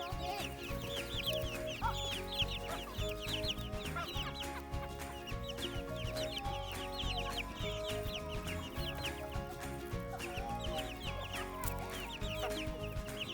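Chickens cluck steadily and close by on an Oregon homestead, a busy, continuous flock chatter with scattered bird calls throughout.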